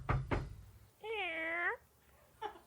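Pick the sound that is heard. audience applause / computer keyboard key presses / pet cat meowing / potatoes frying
pet cat meowing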